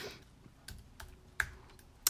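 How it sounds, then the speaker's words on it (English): A few sharp, separate keystrokes click on a computer keyboard, close and quiet, spaced irregularly with no talking. "you can search for it by just typing in daffodil"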